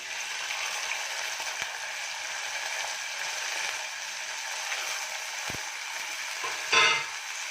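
Fresh field beans and curry leaves frying in a pan, giving a continuous even sizzle with light utensil clicks and a brief louder scrape near the end; no one speaks.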